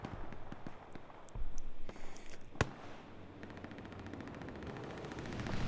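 Distant machine gun fire from a WWII Omaha Beach battle game, rapid faint rattling bursts under a low rumbling battle din, with one sharper close crack in the middle.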